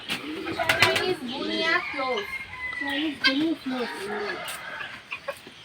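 Turkeys and Chinese guinea fowl on a bird farm give repeated warbling, clucking calls close by, overlapping and rising and falling, with a person's voice mixed in and sharp clicks here and there.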